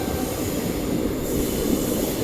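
A passenger train arriving at Prayagraj Junction railway station, with a steady loud rumble of rolling wagons and wheels squealing on the rails, heard from on board with no talk.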